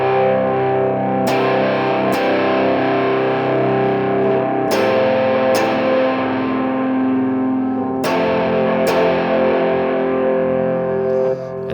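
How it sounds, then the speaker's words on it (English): Overdriven electric guitar plays short distorted chord stabs in pairs, each hit cutting off sharply, with sustained gritty tone ringing between them. "add some drive, and then we just do some stabs."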